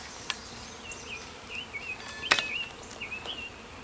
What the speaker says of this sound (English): that is how you put bees in their new hive